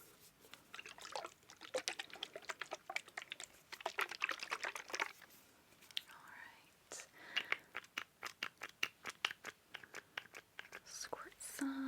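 Drippy skincare liquid squirted and dabbed close to the microphone, soft wet squishes and light taps under quiet whispered talk.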